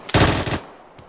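Automatic gunfire in a base during an Arma 3 match: a loud, near burst of rapid rounds that lasts about half a second, then a faint lone shot near the end.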